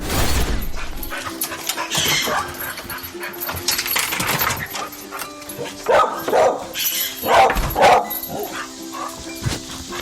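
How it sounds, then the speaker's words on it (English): A dog barks several times at irregular intervals, fairly close, with quieter rustling and background noise between the barks. "It's my dog."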